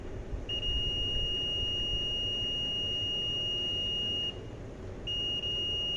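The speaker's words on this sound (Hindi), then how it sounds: "ये बीप साउंड बज रहा है, मतलब वायर कहीं बीच में ब्रेक नहीं हुआ है" A multimeter on continuity test beeps as its probes touch both ends of an unbroken wire: a steady, thin electronic tone holding for about four seconds, cutting out briefly, then resuming, over a soft background hiss.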